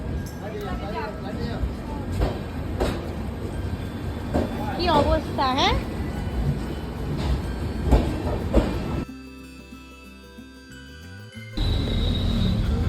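Train rumbling and clattering past at close range under people talking, with the steady rail noise continuing throughout.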